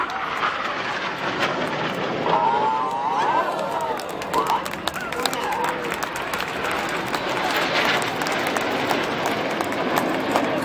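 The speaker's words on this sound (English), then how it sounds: "Now, looking left, here comes a lone jet." Red Arrows jet at an air display roars past as a lone aircraft, a loud, sustained broadband engine rush lasting the whole stretch, with crowd noise and an amplified announcer voice underneath.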